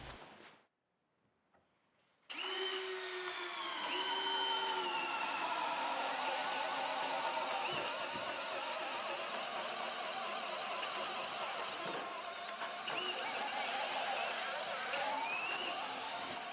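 A Maximum drill from Canadian Tire bores with a 1-inch bit, starting abruptly after a short silence and then running as a loud, steady, whining motor with a grinding undertone that shifts slightly in pitch as it works.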